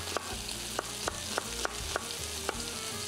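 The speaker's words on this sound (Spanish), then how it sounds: "Ahora el bacalao lo vamos a poner en una sartén, en una planchita, y lo vamos a cocinar, lo vamos a dorar un poquitín" Cod browning in a frying pan on a small griddle, a constant close sizzle broken by regular light clicks and taps from stirring, no voices.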